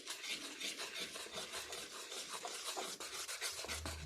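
Dough is worked in a bowl with a knife for a Maori-style boil-up, giving a soft, continuous scraping and rubbing that runs steadily and faintly close by, with no one talking.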